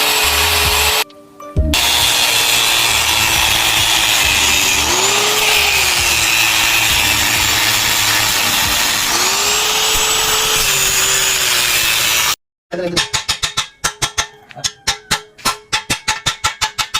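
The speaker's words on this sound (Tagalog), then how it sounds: "natapos ng grinder ni Igong yung mga pinagkabitan ng sidecar niya dati" An angle grinder cuts off old sidecar mounts on a project motorbike: a loud, close, sustained whine that dips and rises as it bites the metal, then gives way to a run of sharp, rhythmic grinding bursts.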